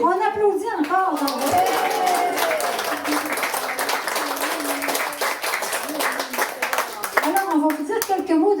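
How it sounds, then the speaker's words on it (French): Wedding guests clap and cheer at a wedding reception, a dense burst of applause with voices talking over it at the start and end. "On applaudit encore"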